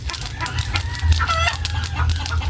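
Chickens cluck busily close by while a rooster crows, a loud, dense barnyard chorus filling the short stretch without speech.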